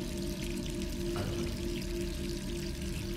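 Steady rushing water, like a tap or shower running continuously, with a brief clunk partway through.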